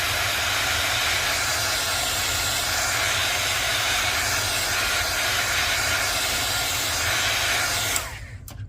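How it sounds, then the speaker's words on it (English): A heat tool blows a steady, loud hiss of hot air over pigment ink on cardstock for about eight seconds, then switches off abruptly. "I do want to give this a quick shot with the heat tool just to dry it"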